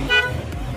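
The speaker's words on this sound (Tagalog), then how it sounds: "Busina natin." A weak PIAA horn on a 2020 Yamaha Nmax v2 motorcycle with faulty wiring gives one brief, thin, feeble toot close by, followed by low background rumble.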